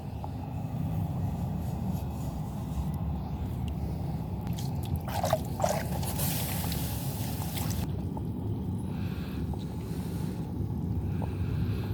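Hot metal plunged into cold water gives a burst of hissing sizzle partway through, over a steady background wash of water noise, with a couple of short splashy bursts just before it.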